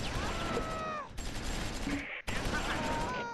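Gunfire in the Close Combat IV wargame, set around Echternacht and Simmerath: dense, continuous bursts of shots and fusillade fill the clip, broken by two brief gaps, with faint voices mixed in.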